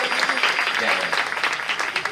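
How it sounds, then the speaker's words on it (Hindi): Audience clapping in welcome at a Bhagwat Katha religious discourse gathering in India, a dense, steady round of applause from many hands, close and loud, with a voice speaking over it. "हाँ, ताली बजाकर स्वागत करो।"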